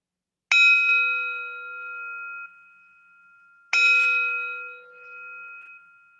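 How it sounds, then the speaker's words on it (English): A meditation bell struck twice, several seconds apart, each strike a clear bright ring that hangs and slowly fades into silence. "And at the sound of the bell,"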